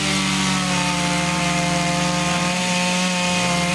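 A chainsaw cuts up a fallen storm-downed tree during relief cleanup, its engine a loud, steady, close drone with a slight drop in pitch near the end as it bites into the wood.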